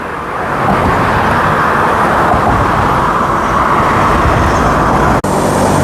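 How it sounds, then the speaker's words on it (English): Two-car Perth Metronet train passing a station, producing a loud, steady rumbling roar that swells quickly and holds for several seconds without any talking. "Just a 2-car train."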